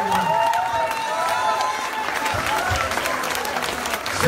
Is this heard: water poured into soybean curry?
no